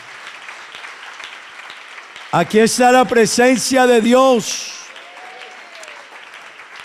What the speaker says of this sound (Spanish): Hermano, denle un aplauso al Señor